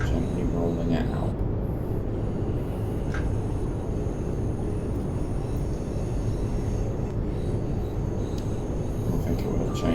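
A continuous low rumble of a London Overground train rolling along in Train Sim World 5, steady and fairly loud, with a few faint higher tones on top.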